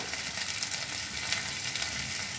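Onions sizzle and crackle steadily in hot oil, a close, even frying hiss with no talking.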